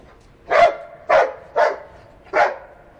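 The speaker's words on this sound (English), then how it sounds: "Hopefully he'll come and bark and she'll come out and play with him." Search and rescue dog giving four sharp, loud barks at a steady rhythm close by, with short quiet gaps between them and no talking.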